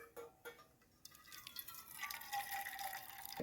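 Hot water pours through a large-holed slotted ladle, first a few faint drips, then a steady splashing stream that grows louder and continues, close by and without talk.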